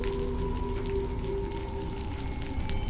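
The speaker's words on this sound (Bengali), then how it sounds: "বাইরে বৃষ্টির গোঙানির মতো একটানা আওয়াজ ক্রমাগত শোনা যাচ্ছে" Steady rain falling outside a pitch-dark shop during a power cut, a continuous even hiss with a low droning hum underneath and no voices.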